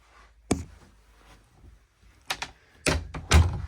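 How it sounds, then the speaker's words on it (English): A cabin door aboard a Sealine S41 motor yacht is handled, a series of sharp thuds and latch clunks with quieter rustling between them, close by and with no talking. "But you'll notice we've got this second door"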